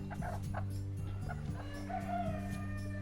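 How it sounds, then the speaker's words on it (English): An aggressive free-range chicken clucking close by on a poultry farm, several short repeated clucks over a steady low background hum, with no talk. "But it's a beautiful chicken."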